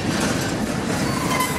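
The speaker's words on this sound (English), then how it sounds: "one long train" Long freight train of NS, UP and CSX locomotives rolling steadily past at close range, a loud continuous rumble with rhythmic clickety-clack of wheels over rail joints.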